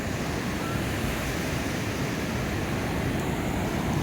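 Ocean surf at Waipu Beach in New Zealand rolls as a constant dense wash of noise, steady and unbroken, with no voices over it.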